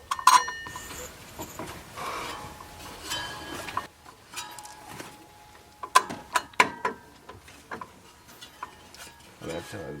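A wrench ratchets bolts tight on a rented water pump puller tool fitted to a Dodge Ram truck, giving close, sharp metallic clicks in short irregular bursts with quiet gaps between them.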